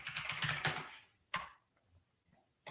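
Typing on a computer keyboard, heard as a quick flurry of close, quiet clicks followed by a few sparse, isolated keystrokes in a quiet room.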